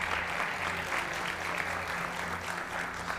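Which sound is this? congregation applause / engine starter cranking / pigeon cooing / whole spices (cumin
congregation applause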